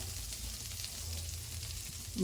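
Butter balls melting in a pan over a low flame while making homemade ghee, a soft continuous sizzle and crackle, close but gentle, ending with a brief louder clunk.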